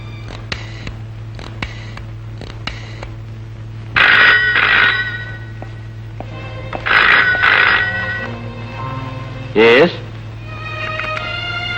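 A telephone rings in three distinct bursts spaced a few seconds apart, loud and close, with a steady hum and brief talk between rings.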